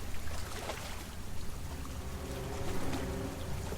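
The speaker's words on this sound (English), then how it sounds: "The sound of the waves can bring peace," Gentle waves lapping at the beach on Mustang Island at Port Aransas, Texas, a soft continuous wash and trickle of water, fairly faint and close, with no voices.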